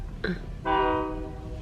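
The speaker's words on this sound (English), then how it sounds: "Oh, that's the train." Cargo train horn sounds in New Orleans, a short blast followed by a longer held chord of the horn over steady rumbling background noise at moderate distance.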